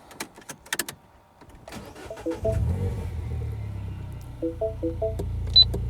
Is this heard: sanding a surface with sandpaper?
no